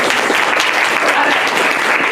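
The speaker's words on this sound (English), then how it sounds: "Yes, give a round of applause" Students in a classroom clap steadily for the Redcoats team after it wins points in a Revolutionary War game, a dense, even round of applause that fills the whole stretch without letting up.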